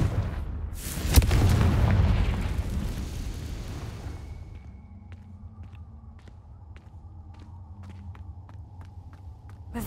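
The Confringo explosion spell in Hogwarts Legacy lands with a sharp crack and a heavy rumbling blast that fades over a few seconds, leaving quiet game ambience with light clicking steps.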